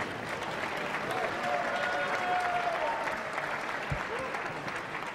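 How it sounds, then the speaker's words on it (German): Arena crowd applauding after a boxing knockout, a continuous broad wash of clapping with a commentator speaking over it. "Und ein sportlich fairer Applaus."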